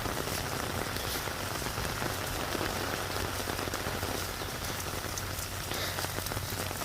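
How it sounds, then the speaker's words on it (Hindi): Rain falls steadily on a pasture where cattle graze, making a dense, even hiss of drops that holds at constant strength throughout with no voices. "गोचर में चरते चरते अचानक जो बारिश आई"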